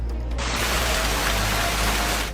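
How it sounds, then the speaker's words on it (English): Heavy rain and hail pound down during a violent thunderstorm over Washington, D.C., a dense, steady roar of drumming impacts filling the whole stretch with no voices, loud and close throughout. "The system produced funnel clouds and dumped rain and hail."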